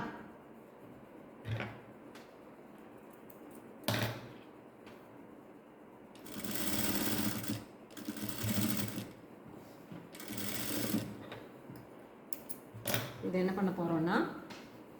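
A sewing machine stitches the waistband of a ladies' pant in several separate bursts of rapid whirring, close and fairly quiet, while someone talks between the runs.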